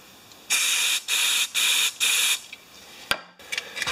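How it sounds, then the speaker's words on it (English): Carb cleaner sprays from an aerosol can in four sharp, loud hissing bursts of about half a second each in quick succession, followed by a clunk and some small handling noises close by. "Carb cleaner."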